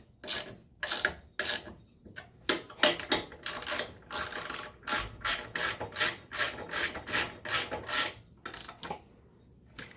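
Ratchet tightening bolts on a BCS sickle bar mower, repeated close clicking strokes in quick irregular bursts, growing steadier and rhythmic toward the end.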